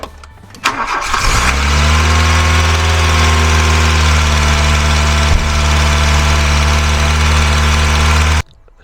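A Volkswagen Golf 2 carburetor engine, just after a timing belt change, cranks briefly then catches and settles into a loud, steady, close idle before cutting off abruptly.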